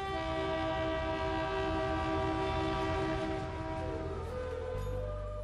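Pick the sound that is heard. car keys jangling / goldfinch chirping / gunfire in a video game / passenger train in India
passenger train in India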